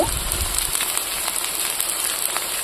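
Carrots and beans hit a hot pan with softened onions for village-style egg fried rice, setting off a steady, close crackling sizzle after a brief thump as they drop in.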